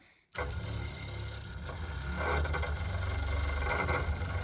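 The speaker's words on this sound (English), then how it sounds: "So we'll get under here and we'll run this pump" Steady electric fuel pump running underneath a 1956 Dodge H6 truck, starting abruptly and then humming and buzzing continuously up close with a faint ticking texture.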